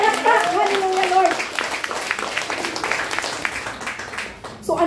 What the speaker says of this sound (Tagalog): Palakpakan natin ang Panginoon. Pinakamalakas na palakpak